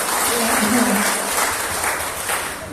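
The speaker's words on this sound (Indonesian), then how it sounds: "Tepuk tangan buat dia." Applause from an audience at a regional work meeting in Tikalong, Landak, sustained and fairly loud for nearly three seconds, a dense wash of clapping with a faint voice or murmur underneath.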